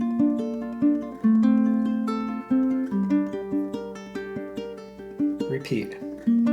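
A solo ukulele plays a looping etude theme full of hammer-ons and pull-offs, clear close notes ringing in a steady melodic line, with a brief scrape or knock near the end and no voice.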